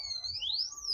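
A street alarm sounds on a Brooklyn street, a thin electronic tone that sweeps up and down steadily and stays faint and distant over low traffic rumble.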